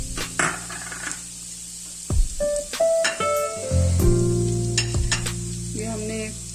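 Garlic frying in a hot pan for a Shahi chicken qorma, sizzling steadily while a utensil stirs and scrapes against the metal with clinks and knocks, close and fairly loud, no voices.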